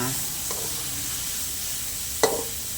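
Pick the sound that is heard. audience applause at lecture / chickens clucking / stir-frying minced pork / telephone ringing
stir-frying minced pork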